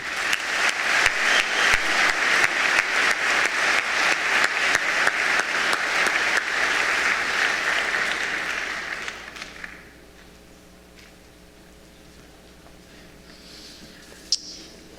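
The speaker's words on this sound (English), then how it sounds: "Could you please join me to give this fine young man a round of applause?" At a high school senior assembly, an audience claps in a loud, steady wash for about nine seconds, then it fades out into a quiet hall with faint low hum.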